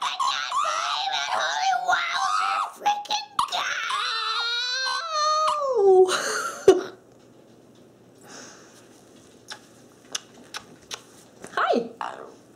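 A pet parrot screams with excitement indoors, loud shrill squawks and whistling wails dominating the first half, then sparse clicks and faint short calls while people talk.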